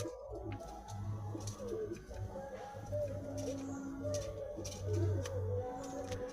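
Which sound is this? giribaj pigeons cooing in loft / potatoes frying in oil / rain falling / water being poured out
giribaj pigeons cooing in loft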